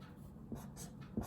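A pen writes the number 45 by hand on paper, giving a few faint, soft scratching strokes in a quiet room.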